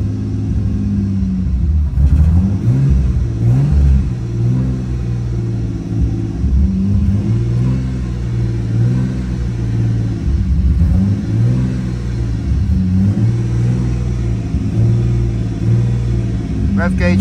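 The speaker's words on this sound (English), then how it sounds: "so I need to stop revving it" A car engine revs repeatedly up close, deep rumbling pitch climbing and dropping in waves, with a voice speaking over it at times.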